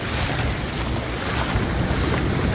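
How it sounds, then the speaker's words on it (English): Ocean waves surge at Kuta Beach, Bali, a steady, loud broadband roar of surf mixed with heavy wind buffeting, continuous throughout with no voices. "Down there, the waves look crazy."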